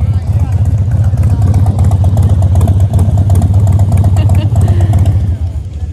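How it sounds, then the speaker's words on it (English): Several motorcycle engines rumble and idle loudly and close by as bikes gather at a crossroads meeting point, a dense continuous throbbing with clattering mechanical ticks throughout. "more and more bikes are coming in"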